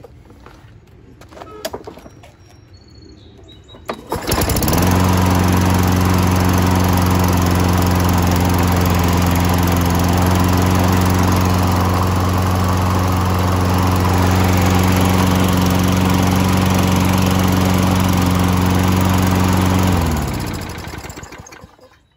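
After a few handling clicks, a Lawn-Boy 10684 mower engine fires up and runs loud and steady close by, with a strong droning hum held for about fifteen seconds before it winds down and cuts out.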